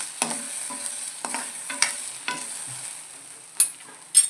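Spices dry-roasting in a pan for a pavta bean dish, with soft continuous crackle and a few sharper scraping stirs at irregular intervals, close and fairly quiet with no talking.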